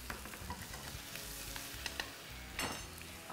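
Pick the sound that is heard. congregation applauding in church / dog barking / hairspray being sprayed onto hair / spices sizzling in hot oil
spices sizzling in hot oil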